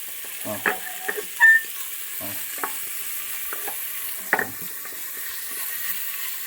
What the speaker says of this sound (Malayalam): സവോള വാടിക്കോട്ടെ. ഫ്ലെയിം കുറഞ്ഞിരിക്കണം. ഫ്ലെയിം കൂട്ടി വെക്കരുത്. ഇളക്കിക്ക്.